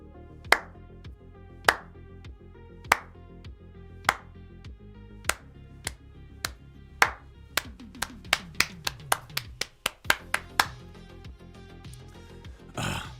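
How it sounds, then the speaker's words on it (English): Hands clap slowly, one sharp clap at a time with long gaps, then the claps speed up into a quicker run before a looser burst at the end, all fairly close. "Everyone slow clap with me."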